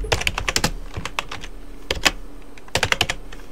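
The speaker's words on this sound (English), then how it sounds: "I'm typing." Rapid clattering keystrokes on a computer keyboard, bursts of quick typing broken by short pauses, close and fairly loud with no voices.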